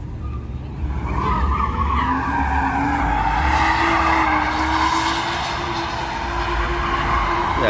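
A Dodge Hellcat sliding on a wet road on a rainy night, its engine roaring loudly and rising in pitch while the tires hiss and squeal through a long continuous skid, close and without speech.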